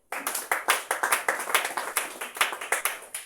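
A church congregation claps in a steady, even rhythm, with about two sharp claps per second ringing out loud and close for a few seconds.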